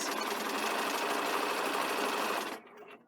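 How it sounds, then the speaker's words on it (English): A sewing machine stitches a fabric front band at a 5/8 seam allowance, a steady close mechanical whir that runs continuously and then cuts off abruptly near the end. "And I'm sewing all the way down"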